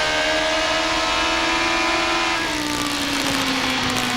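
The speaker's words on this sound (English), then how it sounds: "You can hear him going through the gears, trying to get the right selection to have the most torque that he can have for this restart" An Indy car engine at the 2000 Delphi Indy 200 roars steadily and loud as the driver works through the gears on a restart. Its pitch drops partway through at a shift, and the tone stays dense and continuous with no talk.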